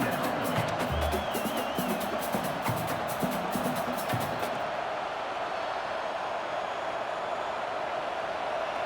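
A big stadium crowd at a college football game between UCLA and Oklahoma cheers and roars steadily, loud and sustained throughout, with a few whoops rising above the general din.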